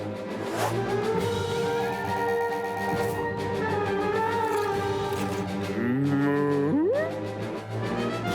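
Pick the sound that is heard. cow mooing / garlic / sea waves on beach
cow mooing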